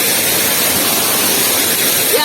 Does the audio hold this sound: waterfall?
yes